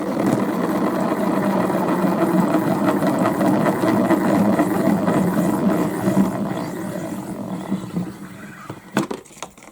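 A salad spinner with its lid on whirs with a loud, continuous rattling drone for several seconds, then winds down and breaks into a few scattered clicks and knocks as it stops.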